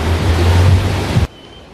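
A river flows near a city as a dense, loud rushing wash with low rumble that stops abruptly partway, leaving near quiet with a faint thin tone.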